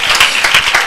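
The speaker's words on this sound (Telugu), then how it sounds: "గట్టిగా చప్పట్లు కొట్టి యేసుకి మహిమ చెల్లించండి." A church congregation clapping loudly during a worship service, a brief, close burst of rhythmic hand claps with sharp, repeated strikes.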